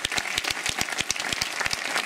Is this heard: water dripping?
no